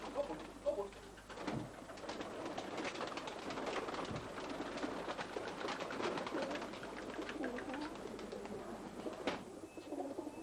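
Tippler pigeons cooing inside a club loft, a steady murmur of soft coos and rustling under a noisy, busy background with occasional louder bursts close by.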